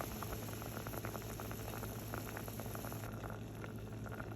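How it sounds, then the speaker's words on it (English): Broccoli simmering in a pot of water, a steady gentle bubbling with soft irregular pops and patter over a low hum, continuous and close, with no talking. "So here you can tell this is at a simmer."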